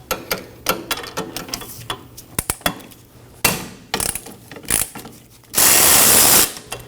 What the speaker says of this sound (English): We have two 14mm bolts holding the caliper bracket on. I'll be using a wobble extension for this.